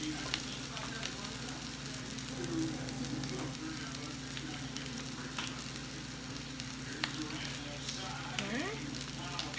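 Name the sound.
Old Bay crab cake patties frying in a pan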